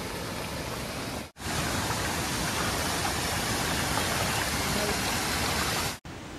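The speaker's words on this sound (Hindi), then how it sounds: "आप देख सकते हैं कितना पानी आ रहा है।" Floodwater from a large drain overflowing in heavy monsoon rain and pouring into a village house makes a steady, loud, broadband rushing roar that continues unbroken apart from two brief dropouts.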